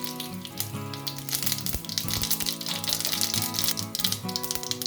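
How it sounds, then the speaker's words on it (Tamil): Mustard seeds spluttering and popping in hot oil in a kadai, a steady close sizzle with dense crackles while tonal background music plays underneath. "கடுகு போட்டுக்கலாம்,"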